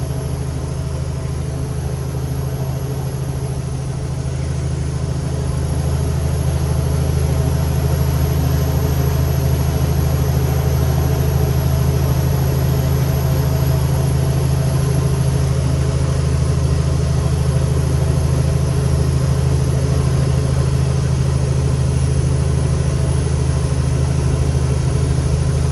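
A truck engine idles steadily with a deep, even hum, close and loud for the whole stretch, its two-speed fan clutch adding only a soft, smooth layer.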